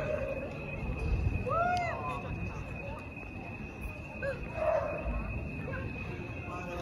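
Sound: dogs barking

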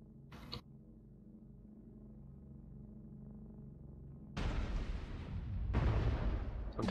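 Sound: weapon fire hitting a mech in the video game MechWarrior Online

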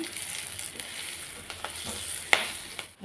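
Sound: baby potatoes frying with curry leaves in coconut oil

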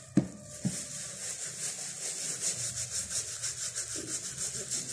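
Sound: rubbing hair color shampoo into hair

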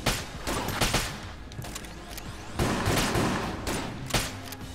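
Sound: gunshots in the video game Enter the Gungeon

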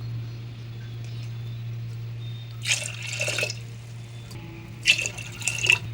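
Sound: pouring glasses of water into chana dal for cooking

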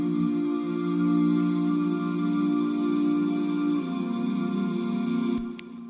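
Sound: layered five-part ooh choir vocal harmony with chorus and delay

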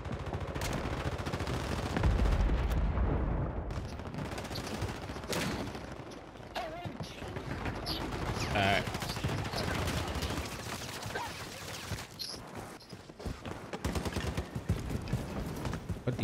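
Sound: gunfire in Warzone video game

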